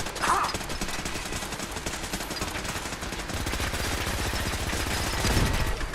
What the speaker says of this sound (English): If they both weren't shooting at me.